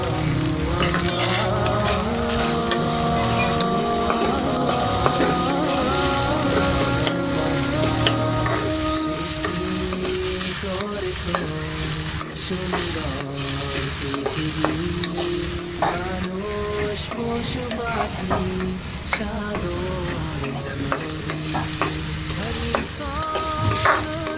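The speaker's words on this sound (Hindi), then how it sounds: "हल्का हल्का फ्राई करना है।" Steady loud sizzling with constant scraping and stirring as chicken filling for Chinese chicken samosas fries in a pan, continuous and close throughout with no talking.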